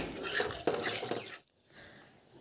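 Boiled potatoes and peas with their cooking water are stirred in a spiced pan, producing close clattering scrapes of a spoon on the pan with a watery sizzle that cuts off abruptly into near silence.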